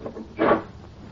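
A door is shut and locked in a 1938 radio drama, a single dull wooden thud at moderate distance in an otherwise quiet room.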